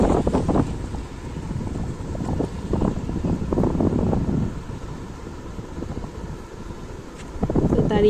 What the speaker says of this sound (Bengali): দেখো এত হাওয়া একবার হলো তো।